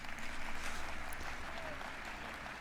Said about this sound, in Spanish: Aplauso del respetable.